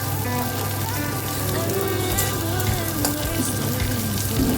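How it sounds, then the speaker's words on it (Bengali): Chopped onions frying in a pan for a Bengali potato and poppy-seed egg dish, giving a steady, close sizzle with faint scraping and a continuous low hum throughout. "তো ফার্স্ট আমি পেঁয়াজগুলোকে একটু ভেজে নিচ্ছি।"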